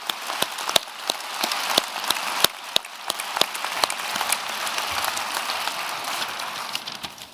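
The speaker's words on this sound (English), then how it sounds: "deserve a round of applause, and you'll turn around and give them one" Round of applause at a university graduation ceremony, a large crowd clapping steadily in a big hall with sharp individual claps standing out, building into a dense, rain-like wash, heard from some distance.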